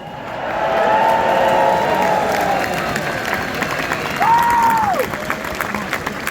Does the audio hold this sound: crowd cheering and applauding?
yes